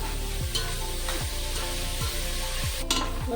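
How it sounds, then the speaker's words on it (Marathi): Chopped onion frying in a pan for street-style pav bhaji, a steady close sizzle with occasional stirring, heard under a rhythmic musical background. "कांदा छान भाजून घेते थोडा।"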